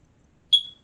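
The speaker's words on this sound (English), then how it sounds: "My smoke detector doesn't normally do that." A single short, high electronic chirp from a smoke detector, fairly clear against a quiet room, fading out within a fraction of a second.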